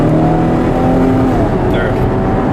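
A 2011 Chevrolet Camaro with a smooth automatic transmission pulls hard up through the gears, its engine note droning loudly and steadily from inside the cabin with rising harmonic tones and no break in the sound.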